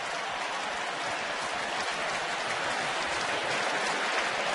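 A baseball crowd at a Tampa Bay Rays versus Toronto Blue Jays game gives a standing ovation, a dense, steady wash of applause and cheering that holds loud and even throughout, with no individual voices standing out.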